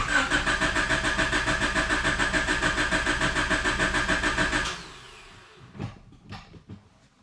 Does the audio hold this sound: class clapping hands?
no